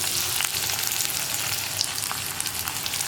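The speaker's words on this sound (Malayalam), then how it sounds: "ഈ വെളിച്ചെണ്ണയിലേക്ക് നമ്മൾ കട്ട് ചെയ്ത് വെച്ചിരിക്കുന്ന സവോളയും പച്ചമുളകും ചേർത്ത് കൊടുക്കാം" Sliced onion and green chili frying in hot coconut oil for a Kerala-style yam masala curry, a steady close hiss of sizzling with small crackles and pops throughout, no voices.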